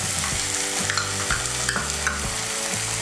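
Tomato paste sizzles and spatters in a hot frying pan while being stirred for egg bhurji masala, a steady close crackle with a few scraping stir strokes and no talking.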